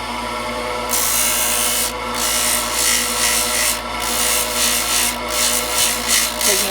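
A woodturning tool cuts spinning wood on a lathe, a loud continuous scraping rasp that swells and fades in rhythmic strokes over the steady lathe hum, with no talk.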